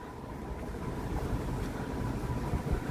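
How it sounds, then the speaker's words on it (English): Wind gusting along a street in Toronto on a winter night, a steady broad roar buffeting the microphone with low rumbling surges throughout, no voices. "Oh, jeez, it's windy."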